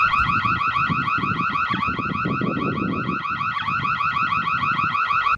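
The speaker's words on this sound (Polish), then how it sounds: "Alarm trwa 10 sekund, a brzmi i wygląda to tak" An Imilab EC4 outdoor security camera's alarm siren wails continuously for about ten seconds, its pitch sweeping up and down in steady repeating cycles, with a low rumble of background noise underneath.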